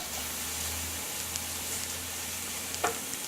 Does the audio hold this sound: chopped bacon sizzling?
yes